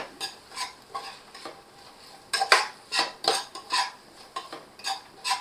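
A spoon scrapes and knocks through jeera peas pulao in a pot as coriander and mint are mixed in, a series of irregular clinking, scraping strokes heard close up alone.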